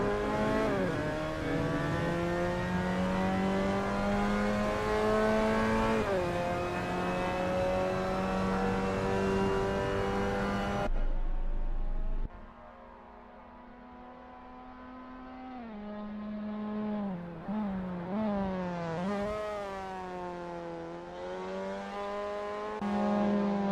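A Mazda MX5 Cup race car in Assetto Corsa laps Laguna Seca, its engine droning loud and steady, then dropping sharply off throttle into a turn before revving back up through the gears.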